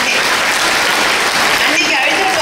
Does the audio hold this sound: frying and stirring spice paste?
no